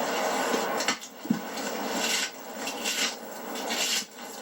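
Stick raking against tree bark to mimic a bull elk scraping, a series of coarse rasping strokes in uneven bursts, close and fairly quiet, with no talk.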